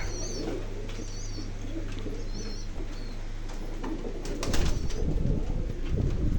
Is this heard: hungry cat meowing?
no